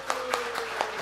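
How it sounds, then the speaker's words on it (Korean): A church congregation applauds during a worship service, with a brief burst of steady, evenly spaced claps at moderate loudness. "큰 박수로 격려해 주시기 바랍니다"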